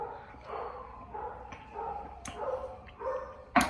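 A dog living outdoors in Spain barks and yips in short, faint, scattered bursts at a distance, with a louder yelp at the end.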